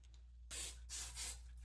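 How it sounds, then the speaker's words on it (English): Hairspray hisses from an aerosol can onto hair in a few short bursts, close and steady, with no talking. "A little bit of hairspray."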